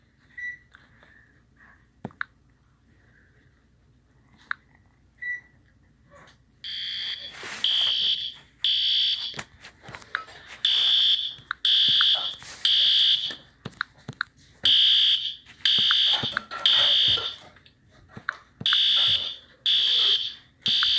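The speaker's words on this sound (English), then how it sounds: "I'm going to pull down a fire alarm." A school fire alarm sounds in loud repeating electronic bursts, blaring in evenly spaced pulses after a quieter start, with a few faint beeps before it kicks in.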